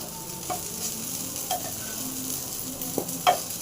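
Big brinjal slices fry on a hot tawa with a steady, close sizzle and crackle, broken by a few soft scrapes and taps as the slices are turned.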